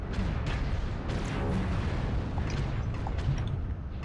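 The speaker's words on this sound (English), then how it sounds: "Airstrike on us." Airstrike explosions in a mech combat video game, a dense continuous rumble of overlapping booms and blasts, loud and sustained with no speech over it.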